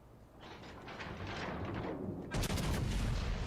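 Naval artillery fire in the World of Warships: Legends game, heavy booming gun blasts rolling under a constant rumble, with a sharper, louder salvo about two-thirds of the way through.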